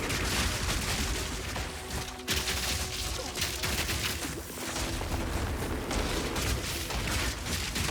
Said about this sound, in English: Or that explosion, whatever.